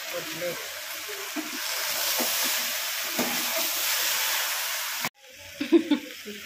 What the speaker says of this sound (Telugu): బెండకాయ ఫ్రై అయిందయ్యా కదా.